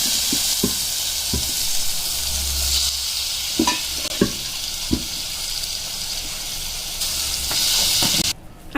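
Boiled matki sprouts added to a pan of frying masala, sizzling steadily in the oil while a spoon stirs and scrapes in a few distinct clinks, close and fairly loud, with no talking.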